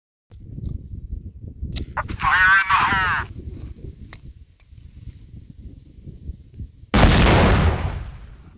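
A Pyrosoft airsoft grenade gives a short rising whistle, then after a pause goes off in a sharp, loud broadband bang near the end, with quiet rustling and faint vocal sounds between.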